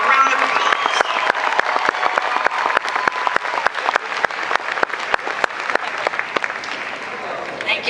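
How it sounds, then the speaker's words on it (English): A graduation ceremony audience for San Jose State University's hospitality management class of 2013 applauds the faculty, with sustained dense clapping from a large crowd that holds steady and then tapers slightly near the end. "let's all give the faculty a well-earned round of applause"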